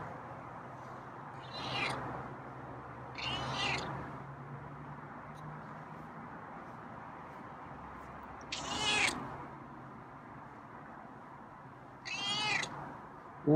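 Outdoors on a warm morning, a feral cat that is just waking up gives four separate meows spaced a couple of seconds apart. The calls are moderately loud over a steady low background hum.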